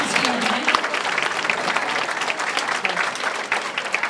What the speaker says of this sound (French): j'aimerais ça qu'on lui donne une bonne main d'applaudissement et qu'il monte dans la lumière